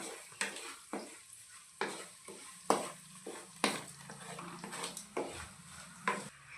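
Turmeric and salt are stirred into frying food in a pan, a rhythmic series of scraping strokes about once per second over a soft sizzle.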